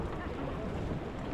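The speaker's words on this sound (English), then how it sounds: "it's too windy" Strong wind buffets the microphone at a glacier lagoon, a dense continuous roar with no other clear sounds.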